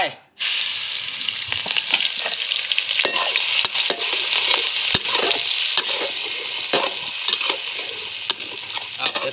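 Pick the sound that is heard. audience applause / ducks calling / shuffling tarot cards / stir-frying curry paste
stir-frying curry paste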